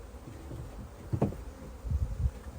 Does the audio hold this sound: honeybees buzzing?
yes